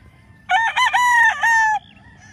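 A young gamecock stag crows once, a clear, close cock-a-doodle-doo lasting over a second against quiet background.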